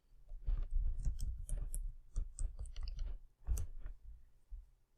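Quick bursts of light taps and clicks on a computer keyboard, close and quiet, arriving in short irregular clusters with brief pauses between them.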